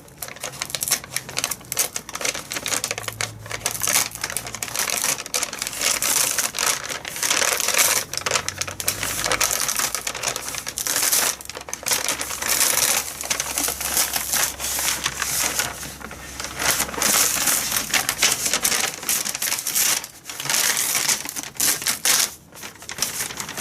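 Paper fabric being peeled off a sheet of freezer paper, giving a continuous dry crackling and tearing rustle with rapid irregular bursts, close and fairly loud, with no talking.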